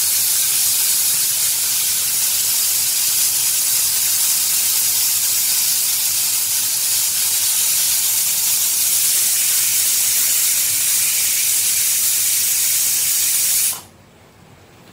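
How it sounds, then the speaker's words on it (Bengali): A pressure cooker cooking khichuri lets out a loud, continuous steam hiss that holds steady for about fourteen seconds before cutting off abruptly, leaving quiet kitchen background. "আমি খিচুড়ি রান্না করছি প্রেশার কুকারে।"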